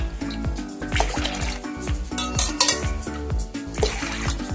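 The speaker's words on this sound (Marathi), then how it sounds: "आता याच्यात 3 ते 4 ग्लास पाणी टाकून ठेवूया" Water is poured from a glass into a pressure cooker holding washed dal, giving close, rhythmic glugging splashes that rise and fall as each pour lands in the pot, with no talking.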